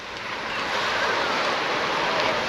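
Waves wash steadily onto a rocky, stony beach within sight of Golden Cap, a constant close broadband rush with wind and no voices.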